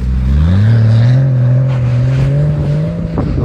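A car engine drones close and loud, its pitch sliding upward as it accelerates and then holding a steady tone, with no talk over it.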